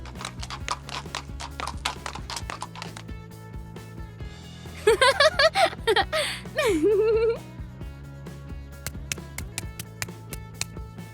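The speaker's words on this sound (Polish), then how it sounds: "Maximus szuka wszędzie Juliana, bo to jest bardzo odpowiedzialny koń" Horse hooves clip-clopping in a steady rhythmic series of close, sharp taps, interrupted midway by a loud burst of high-pitched vocal sounds before the hoofbeats resume.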